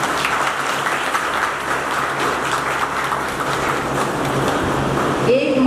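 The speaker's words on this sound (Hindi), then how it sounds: "जोरदार तालियां बजाते हैं।" Steady, dense applause from a large audience at a spiritual gathering in Hisar, sustained throughout with a slight swell near the end.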